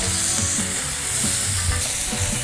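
Spoon strokes scrape through a chili-and-relish burger mixture sizzling in a hot pan, giving a continuous close frying hiss with a few soft repeated stirring sweeps and no voices.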